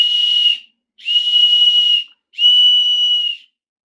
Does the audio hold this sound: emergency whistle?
yes